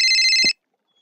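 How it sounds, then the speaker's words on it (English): A phone ringing in a Minecraft game, a short bright electronic ringtone trill that repeats rapidly for about half a second and then cuts off abruptly into silence. "Oh, is that my phone ringing? Oh, yeah, it's my phone."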